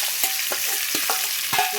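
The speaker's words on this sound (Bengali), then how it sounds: "পেঁয়াজটা ভালো করে ভাজা ভাজা করে নিই।" Chopped onions sizzle in hot oil in a wok with whole garam masala, punctuated by several short scraping stirs of a spatula at uneven intervals, close and alone.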